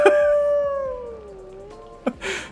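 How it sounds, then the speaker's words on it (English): A wolf howl from the Planet Zoo game glides slowly downward and fades, and a couple of brief sharp noises follow near the end. "oh, wolves are howling away."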